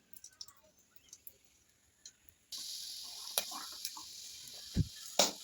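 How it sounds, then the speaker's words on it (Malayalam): Oil poured into a heating pan sets off a soft hiss that swells after a few quiet clicks and taps, with brief sharp crackles popping over the rising sizzle. "കുറച്ച് എണ്ണ ഒഴിച്ചെടുക്കാം കേട്ടോ."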